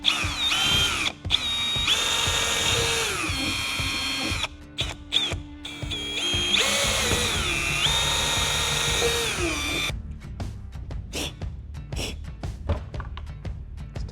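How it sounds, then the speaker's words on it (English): A power drill whines in long high-pitched bursts, drilling holes through a BMW M4 trunk from the bottom side, pausing between runs, followed by scattered knocks and clatter near the end. "we can go ahead and do some drilling from the bottom side"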